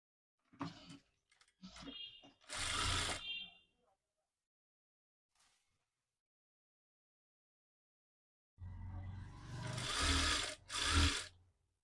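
A sewing machine stitches a folded lehenga lining in two separate runs, short close whirring bursts at the start and a longer loud run near the end, with a quiet pause between.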